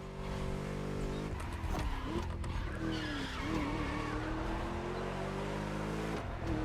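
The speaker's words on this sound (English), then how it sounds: "Just listen to that V8 like a chonky, down-tuned guitar riff." A throaty V8 engine in the racing video game The Crew Motorfest growls and revs while tires squeal and skid, loud and continuous, like a race car pushing through corners.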